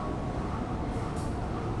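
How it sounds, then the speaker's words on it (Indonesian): The Serayu passenger train rumbles steadily as it departs the station, a continuous loud roar of wheels and engine with no break. "kereta api Serayu diberangkatkan kembali menuju stasiun Pasar Senen"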